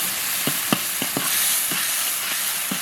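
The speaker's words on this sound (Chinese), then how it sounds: "用小火慢慢把蒜末、小米辣炒香" Minced garlic and small chili peppers stir-fried slowly in oil in a wok over low heat, with a soft constant sizzle under regular, evenly spaced spatula scrapes.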